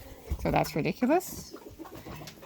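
Hens on a farm let out a few short, close clucking calls in quick succession, followed by someone talking quietly.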